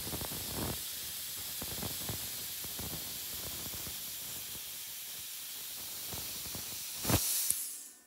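A VEVOR 50 amp plasma cutter hisses steadily as the torch rides along a guide across metal, a continuous close spray-like rush with small crackles, ending in a brief louder burst.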